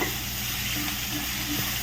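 Beef roast sizzling steadily in a hot pan as it is stirred, a continuous close hiss with faint scraping underneath, alone and without talk.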